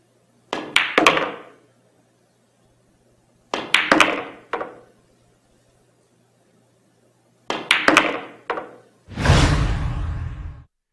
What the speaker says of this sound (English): Since the shot is straight on, a stun shot is the perfect solution to avoid a scratch.